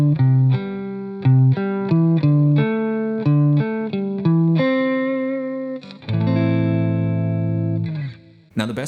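An electric guitar with distortion picks a run of short pentatonic interval notes in quick rhythm, then lets a final chord ring out before it cuts off, played alone with no talking.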